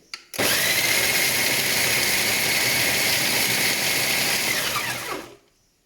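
A blender blitzes a date and cherry mixture for vegan chocolate cherry bars, a loud, steady whirring that runs for about five seconds, then cuts off sharply.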